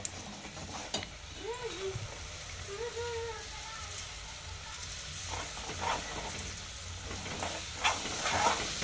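Ground masala for a methi dish fries in a pan, a hissing sizzle rising and falling under a person talking.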